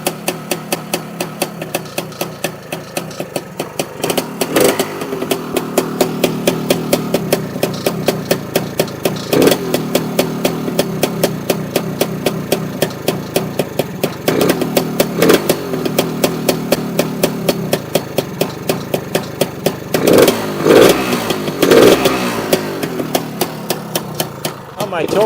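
A Lambretta scooter engine fitted with a BGM Pro MZ30 exhaust runs loud and close, a rapid two-stroke putter with periodic blips and sharp bangs, while a person talks over it.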